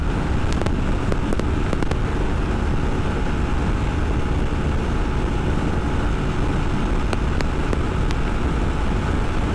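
A 2024 Triumph Scrambler 400 X motorcycle rides at top speed, with loud, constant wind rush and road roar buffeting the microphone throughout and no speech.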